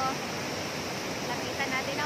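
Awao Falls in Monkayo, with its strong current, gives a constant rushing roar of falling water nearby, with a voice briefly audible over it.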